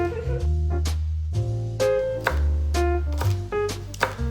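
A kitchen knife chops Cheongyang chili peppers on a cutting board, sharp taps landing at an uneven pace over a low steady hum, with no talking.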